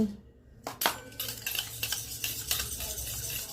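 A spoon stirs sugar into a small amount of coconut oil, giving close, soft scraping and clinking against the bowl in short, irregular strokes after a quiet start.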